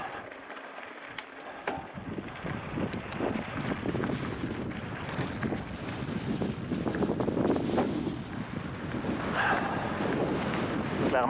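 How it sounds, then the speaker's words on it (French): Valley wind gusting on a mountain bike trail beside a dry creek bed at Thunder Mountain, Utah, a steady broadband roar buffeting the microphone throughout with rising and falling swells. "Clairement un vent de vallée."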